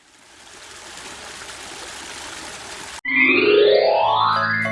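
Flowing river water as a steady broadband rush for about three seconds, then cut off abruptly and replaced by a louder, sweeping synthetic effect.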